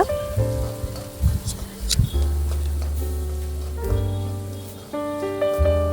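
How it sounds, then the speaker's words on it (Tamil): Chopped garlic, onion and curry leaves sauté in hot oil in a pan. A steady close sizzle and crackle runs throughout under background music, with no voices. "பூண்டு இந்த மாதிரி சின்ன சின்னதாக கட் பண்ணி ஆட் பண்ணிவிட்டு, ஒரு பெரிய வெங்காயம் சின்ன சின்னதாக கட் பண்ணி ஆட் பண்ணி நல்லா வதக்கிக்கோங்க"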